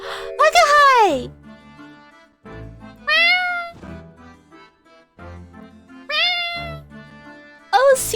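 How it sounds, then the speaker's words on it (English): A cat meows in The Great Ace Attorney Chronicles: several loud, clear, rising-and-falling meows spaced a few seconds apart, with quieter game sounds between them. "Oh, look! It's that lovely little kitty cat."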